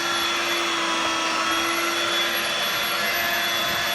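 A Dirt Devil Vibe 3-in-1 corded bagless stick vacuum running steadily, a loud continuous motor whine with a high-pitched tone, close and unbroken throughout.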